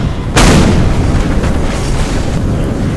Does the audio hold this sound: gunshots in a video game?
yes